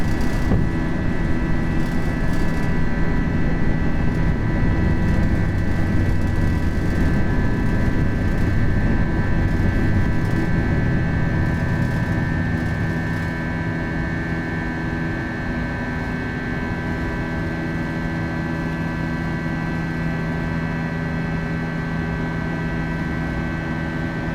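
Airliner engines roar steadily during takeoff and climb, a loud, continuous drone with a sustained tonal whine that eases slightly partway through and holds at a constant level. No speech.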